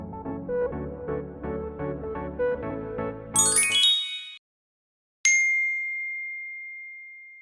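A phone notification rings out as one clear, bright ding right after the music stops and a moment of silence, its tone fading slowly away.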